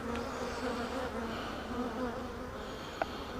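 Honeybees hum from an opened hive during an inspection, a steady, fairly close drone of many wings with slight swells, plus one sharp click near the end.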